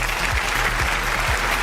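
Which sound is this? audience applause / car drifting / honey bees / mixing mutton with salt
audience applause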